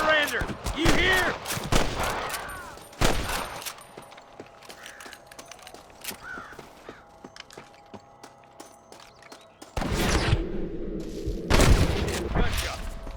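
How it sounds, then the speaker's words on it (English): Sniper gunfire in the Western video game Red Dead Redemption, heard as a few sharp, loud bursts of shots separated by quieter stretches of ambient game sound, with spoken lines in between. "Gunshot!"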